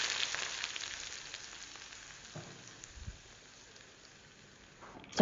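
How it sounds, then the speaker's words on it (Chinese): Hot oil poured over minced garlic, dried red chili pieces, coriander and chili garlic sauce in a large bowl sizzles loudly at first, then settles into a fading crackle with a few small clinks and a sharp sound at the end. "用热油爆香碗内的食材"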